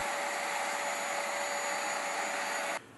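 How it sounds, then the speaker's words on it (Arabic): A Japanese Maid floor cleaner running as a heated floor dryer, a loud steady blowing whir that holds constant and drops off abruptly at the very end. "عند التجفيف لازم ما نضغط على هذا الزناد حتى تشتغل الخادمة اليابانية كمجففة"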